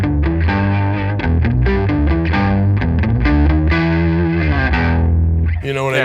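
Distorted electric guitar riff layered with an octaver bass line from a Sub'n'Up octaver pedal, played loud and continuous with chorus-like shimmer, chords and notes changing steadily before a brief swept tail.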